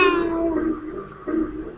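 Cat meowing in the Final Fantasy IX video game, a drawn-out tonal meow that fades and then rises briefly again, heard clearly over a steady game background.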